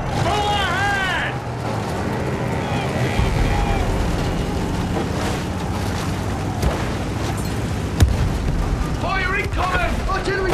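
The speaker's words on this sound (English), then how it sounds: "Fire incoming. Artillery, tearing the boys apart." Artillery fire and explosions crash and boom repeatedly in a Battlefield 1 battle, forming a dense, loud, continuous barrage with sharp blasts near the start, middle and end.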